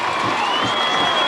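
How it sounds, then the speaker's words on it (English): A high school football crowd at the 1997 Billings West vs Bozeman state championship roars and cheers as it rises to its feet, a loud, dense, steady wash of voices from a packed stadium. "The crowd is getting up on its feet here for West High right now."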